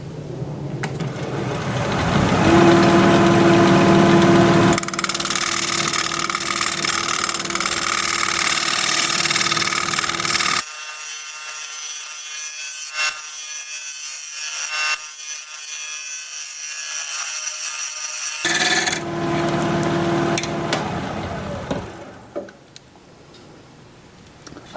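Wood turned on a lathe with a carbide tool makes a loud, steady scraping and rubbing over the motor hum, with a cut-off mid-clip before the scraping resumes and then dies away.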